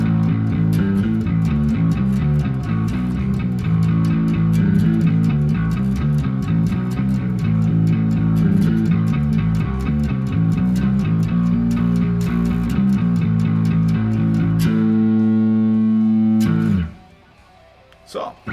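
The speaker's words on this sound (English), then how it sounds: "You can hear a little bit of reverb, but it's very short." Bass guitar played through a Mercuriall BST 7 Pro amp emulation of an Ampeg SVT 7 Pro on a stoner-style patch with short reverb, a loud distorted riff of repeated low notes ending on sustained chords that cut off abruptly.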